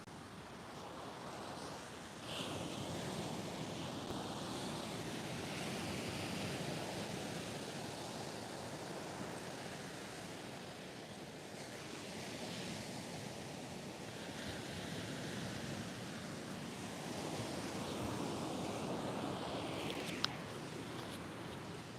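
Sea waves breaking at the shore form a continuous broadband wash that swells and recedes in slow surges, with wind buffeting the microphone and no voices.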